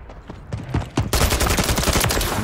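Gunfire in a shooter video game starts as a series of rapid sharp shots. It builds into a dense, loud, continuous automatic burst, close and unbroken, with no speech over it.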